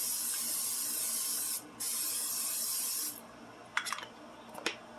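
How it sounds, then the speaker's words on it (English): Butter cooking spray from an aerosol can misted into a casserole dish, two steady hissing bursts with a short gap, followed by a few light clicks and taps, fairly quiet. "Go ahead and spray it with butter spray."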